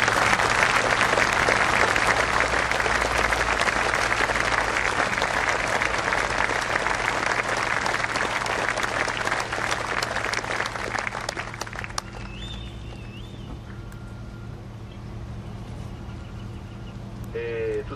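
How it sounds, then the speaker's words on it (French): Crowd applause at a tribute to a deceased cyclist, loud sustained clapping from a large gathering for about twelve seconds before it cuts off, leaving quieter background murmur and faint tones. "c'est un geste que je vous demande d'applaudir"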